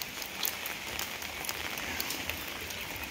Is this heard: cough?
no